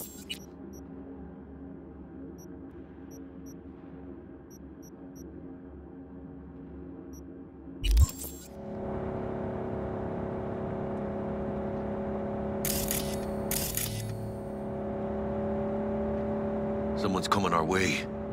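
A car drives in Cyberpunk 2077 with a steady engine whir and rumble that rises after a loud thump, and people talk over it.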